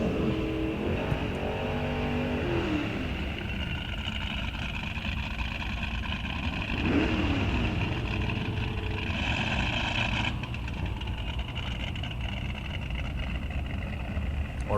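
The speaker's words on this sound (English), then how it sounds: "Bulin, the 72 Duster, left side, 360 call out on the rear quarter panel, aftermarket rear spoiler." A 1972 Plymouth Duster drag car with a 360 engine runs steadily and loud at Rock Falls Raceway, its rough engine roar continuous throughout amid broad outdoor track noise.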